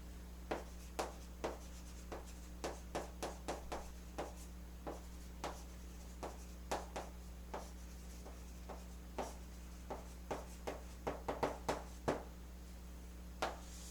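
Writing on a board during a Korean-language English grammar lesson: a steady run of short, quiet scratching strokes in irregular bursts, close and alone over a low steady hum, with no talking.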